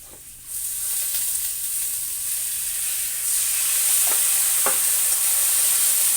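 Taro and potato frying with ginger and ground chili paste give a steady, loud sizzle in the pan; the hiss swells slightly partway through as water goes in, with a couple of faint stirring knocks.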